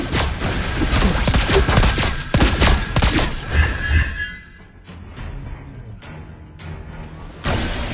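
Gunfire from the marksman hero Lesley in the mobile battle game Mobile Legends, a rapid close volley of sharp shots for about four seconds, then a quieter stretch with sparse hits before another loud burst.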